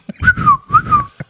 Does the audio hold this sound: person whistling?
yes